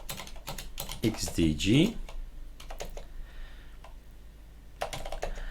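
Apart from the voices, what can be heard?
typing on a computer keyboard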